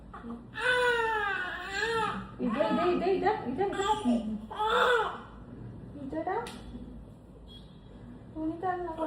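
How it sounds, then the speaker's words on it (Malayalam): An infant cries in a home setting, with repeated wailing bursts rising and falling across the span, close and loud, broken by short pauses and a faint click. "ഞാനിപ്പോൾ കുട്ടിന് ഇങ്ങോട്ടേക്ക് വന്നേരാണ് കരച്ചിൽ വന്നത്"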